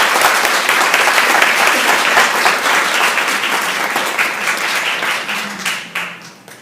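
Warm audience applause at a conference welcoming a speaker, dense and steady clapping that gradually thins and fades out over several seconds, with no talk over it.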